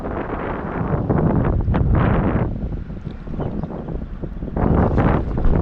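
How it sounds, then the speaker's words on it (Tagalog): Strong wind buffets the microphone in heavy gusts, roaring and rumbling, with surging bursts of noise rising and falling throughout. "Grabe, tinatakay ng hangin yung dala natin."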